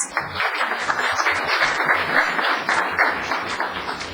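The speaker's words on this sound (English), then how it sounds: "Applause, please." Applause at a town council meeting right after the Pledge of Allegiance, a dense, steady wash of clapping from the room that holds evenly for the whole stretch.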